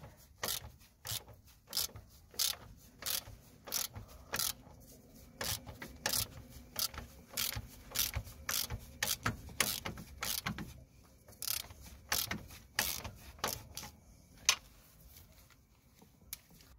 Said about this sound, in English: And we're using a 16mm socket to drive it in.